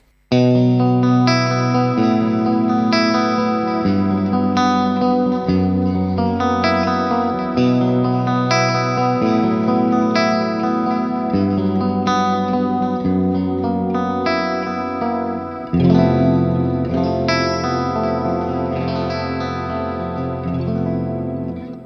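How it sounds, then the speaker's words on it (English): Clean guitar chords ring through a Hotone Ampero 2 modelling a boutique handwired Roots RA-2230 amp, drenched in reverb and delay, strummed phrases repeating with echoing tails, played alone without talk. "Let's also add some reverb and some delay."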